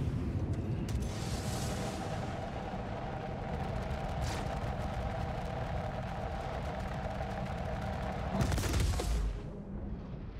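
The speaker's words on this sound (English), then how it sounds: "let's shoot this torpedo at close range then" Torpedo launched from a Scimitar Hammerhead in the Star Citizen space game, a sustained mechanical rumble with a hiss near the start and a sharp blast-like burst toward the end, no speech.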